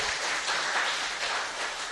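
Hands clap in a brief, dense burst of applause on a Korean talk show, steady and close for about two seconds, with no voices over it.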